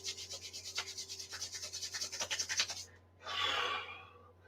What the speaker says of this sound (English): rubbing the hands together until they're nice and warm